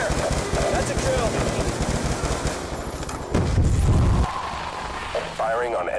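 Rapid gunfire aimed at an enemy CLAW robot in the Black Ops II campaign, loud and sustained, with game sounds and a voice talking over the shooting.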